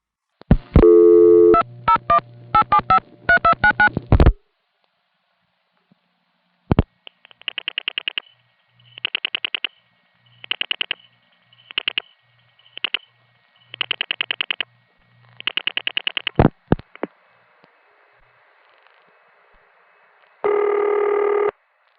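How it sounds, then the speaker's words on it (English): 1974 telephone line signals in New York's 914 area: a burst of tones, then a tandem switch's rapid pulsed tone groups dialing seven digits one after another, ending with a steady tone. "You can clearly hear VZ Tandem 1 dialing all 7 digits."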